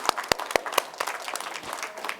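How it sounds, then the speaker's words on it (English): Applause at an award ceremony during an ICT summit, a few sharp claps standing out at the start before settling into a steady round of clapping from the audience. "Give him a round of applause."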